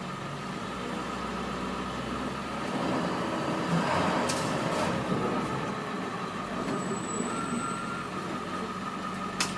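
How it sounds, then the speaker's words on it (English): A school bus in drive pulls forward a short way and brakes to a stop with its service brake, a steady engine rumble swelling slightly mid-run with faint hiss and brief high brake sounds, no talk. "we're going to pull up 5 miles and test the service brake to make sure there's no unusual feel and it's not pulling to the left or the right"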